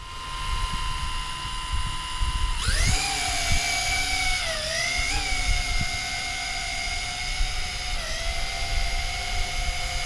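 A JJRC H26wh WiFi quadcopter drone spins up its motors for takeoff, jumping from a low tone into a loud, high-pitched buzzing whine that wavers as the throttle changes and stays close and continuous.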